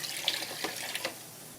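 A cup of water poured into a pot while making spicy shredded chicken tinga, a brief close splash and trickle lasting about a second.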